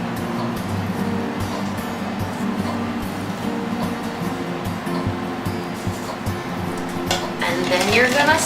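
A spoon stirs a mixture of active dry yeast in a container, making a continuous scraping, swishing sound with light clinks, close and steady throughout, growing a little louder near the end.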